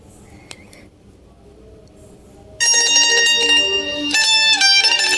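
A Nokia 5130 XpressMusic phone plays a tune through its audio player. After a quiet start with faint clicks, bright, tonal phone-speaker music bursts in loudly and plays steadily to the end.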